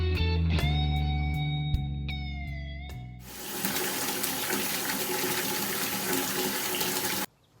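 Water from a tap gushes steadily into a container during morning chores watering farm animals, preceded by a few clanks and tones, then a loud continuous splashing fill that stops abruptly.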